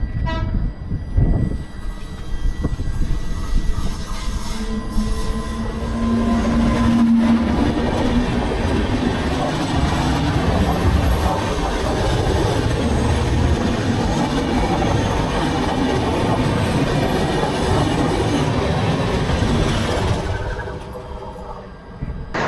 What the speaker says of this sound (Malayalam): രണ്ടാമത്തെ ട്രെയിനാണ് കേട്ടോ ശബരി എക്സ്പ്രസ്സിനെ ഇപ്പോൾ ഓവർടേക്ക് ചെയ്ത് കയറിപ്പോകുന്നത്